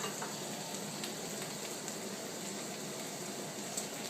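Food fries in a pan while Vietnamese spring rolls cook at the table, a faint, steady crackling sizzle with no talk over it.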